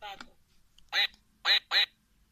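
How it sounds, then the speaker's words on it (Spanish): A brief voice sound, then three loud electronic quacks from a toy duck in a musical box, the last two close together, with near silence between. "Y un pato."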